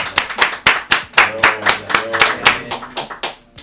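A small group on a sports podcast claps for a visiting barber, a series of sharp, close hand claps in an uneven, quickening rhythm, with a low voice murmuring beneath them.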